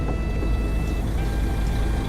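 A coach engine in Fernbus Simulator idles with a steady, low, even rumble throughout, with no other sounds over it.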